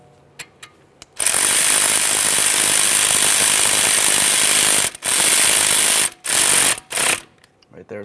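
A ratchet drives an 8mm bracket bolt for a rear brake hose on a 2013-2020 Ford Fusion, a loud, close, continuous mechanical rattling whir broken by brief pauses and short final bursts.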